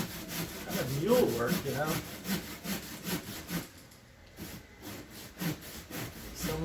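A hand saw cuts through big tree limbs outdoors in repeated rasping back-and-forth strokes with a steady rhythm. Someone talks briefly over the sawing.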